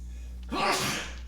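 A single sharp sneeze bursts out at close range after a moment of quiet room tone, loud and brief, fading quickly into a soft tail.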